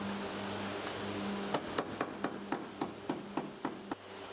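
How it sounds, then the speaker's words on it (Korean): Car body sheet steel is hammered flat during welding repair of a long-neglected car: after a steady low hum, about ten sharp, close hammer taps follow in a quick, fairly even rhythm, with no talk. "용접과 망치질을 반복하면서 철판을 평평하게 펴면서 붙여줘야 표면이 깔끔하게 마무리된다고 하네요"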